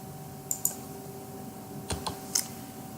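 Sparse computer keyboard keystrokes, a few isolated clicks and short bursts over a quiet room hum, close and fairly soft, as someone types C code.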